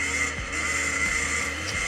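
A 1987 Honda CR250 two-stroke motorcycle being ridden, giving off a steady engine drone with a brief drop in pitch, heard at moderate distance, with no talk.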